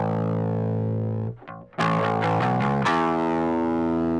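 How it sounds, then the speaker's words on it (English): Loud, distorted electric bass notes through a drive pedal into a Line 6 Helix amp model, gritty overdriven tone, a brief gap, then several struck notes ringing out. "We can put a drive in front of the amp to help drive that."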